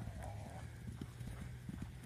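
A farmer's horse clip-clops on a rural track in Kyrgyzstan, with steady, fairly quiet hoofbeats in an uneven rhythm over outdoor background noise.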